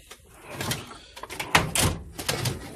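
Metal tool box drawers sliding open and shut, a few close scraping slides and clunks in quick succession with light rattling between them.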